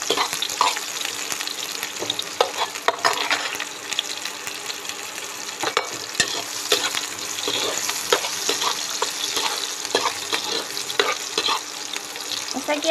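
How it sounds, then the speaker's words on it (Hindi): Chopped ginger and green chili frying in a pan for Maggi noodles, a continuous close sizzle broken by frequent scraping and clinking stirs, steady throughout with no talking. "अदरक और मिर्ची अच्छी तरह से भुन रही है"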